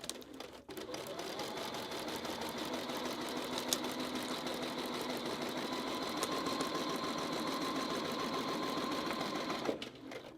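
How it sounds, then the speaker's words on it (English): A sewing machine stitches a paper-pieced holiday tree quilt block in a steady, continuous whirring run of rapid needle strokes. It is close and even, stopping near the end. "I am sewing piece 2 onto piece 1."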